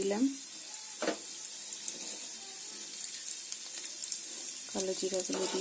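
Black cumin seeds fry in a pan for a mixed vegetable dish, giving a faint, steady sizzle that runs under brief clatters and short bursts of sound near the start and end.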